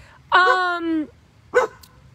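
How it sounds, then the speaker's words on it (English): A dog outdoors barks at a rabbit: one long drawn-out whining bark, then a short sharp bark after a pause, both close and loud against quiet surroundings. "Hey, what are you barking for?"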